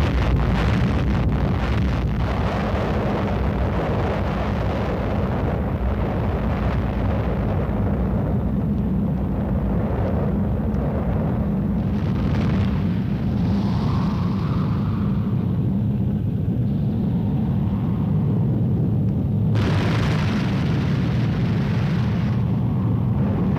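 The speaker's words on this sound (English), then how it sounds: "Experienced their first atomic explosion, moving out of their trenches toward the blast area with the mushroom cloud still" A sustained, heavy roar from an atomic bomb detonation on an army test range, a broad rumbling blast that fills the whole stretch with continuous low, wind-like turbulence and no voices.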